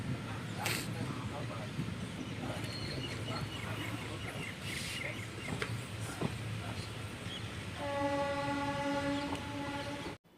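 The Semmozhi Express runs along an electrified line near Thanjavur Junction on the Tiruvarur route, giving a continuous rumbling rattle of carriages over the track heard from onboard, with a horn-like tonal blast near the end and some faint voices.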